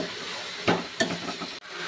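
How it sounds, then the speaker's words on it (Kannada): Bitter gourd frying in a pan, a steady soft sizzle and hiss with brief louder bursts of stirring, close and alone. "ಫ್ರೈ ಮಾಡಿರೋ ಹಾಗಲಕಾಯಿನ ಸ್ವಲ್ಪ ಹೊತ್ತು ಫ್ರೈ ಮಾಡಿ"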